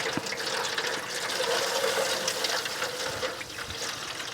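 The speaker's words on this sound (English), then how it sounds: "we're going to fill that up with water" Water pours steadily from a tap into a 9 by 13 foil pan set up for a charcoal grill smoker, a continuous close splashing fill for several seconds with no talk.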